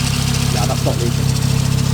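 A 1998 Toyota Corolla's 4E-FE engine idles steadily as it warms up, a loud, close, even drone with a deep rumble throughout. A voice briefly murmurs over it.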